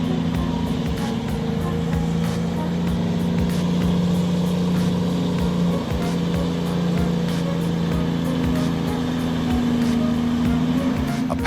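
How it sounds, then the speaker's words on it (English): A Pacific P16 logging truck engine drones steadily while hauling a heavy load of logs up a slippery, rocky forest road, a constant low hum with a strained tonal whine and occasional knocks, close and continuous. "The Pacific P16, nicknamed the Giant Iron Horse, is hauling a mountain of logs on a slippery,"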